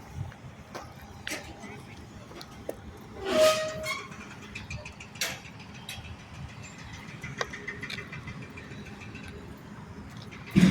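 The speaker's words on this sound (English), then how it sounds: "So this little train that runs, you see it in the zoo?" Small zoo train running past near a duck pond, a quiet rumble of wheels and clatter with a short whistle-like burst partway through, under light outdoor chatter.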